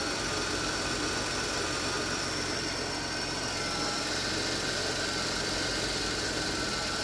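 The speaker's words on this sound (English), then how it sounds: "This engine is perfect." Engine of a car idling steadily at close range, a continuous low rumble with faint vibration and no talk throughout.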